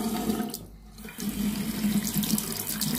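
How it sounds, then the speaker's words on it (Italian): Cold water runs steadily from a tap into a sink, a close, continuous splashing rush that briefly dips and then resumes, with no talking. "Quindi accendiamo l'acqua fredda."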